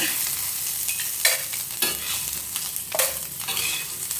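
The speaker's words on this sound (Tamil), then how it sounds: "தேங்காய் சும்மா லைட்டாக வறுபட்டால் போதும்." Grated coconut lightly roasted and stirred in a pan over a low flame, giving a steady soft sizzle with scraping spatula strokes at a regular pace, close and alone.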